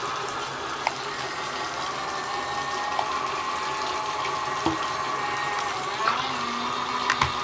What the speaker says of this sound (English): So I'm just going to add a little bit more water to it.